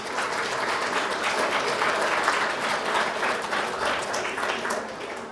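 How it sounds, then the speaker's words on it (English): A crowd applauds at an All-America City celebration, dense and sustained clapping filling the room at an even, fairly loud level from start to finish. "Give yourselves another round of applause."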